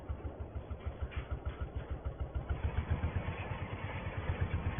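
A tractor engine runs steadily in a grass field being rolled, with a rhythmic, throbbing low chug that pulses regularly and stays fairly close and loud throughout, with no voices.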